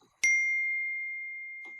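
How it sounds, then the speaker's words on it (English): A phone notification sounds as a single bright ding that rings out and slowly fades over more than a second. It plays alone in near silence. "that ding on our phone is somebody trying to catch our eye attention"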